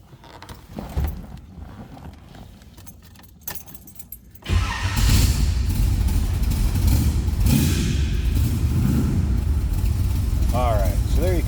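A 1975 Chevrolet Corvette coupe idles with a steady, slightly high rumble that starts abruptly partway through and runs loud and continuous, after a quieter stretch with some key jangling and handling noise.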